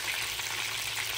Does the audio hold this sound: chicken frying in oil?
yes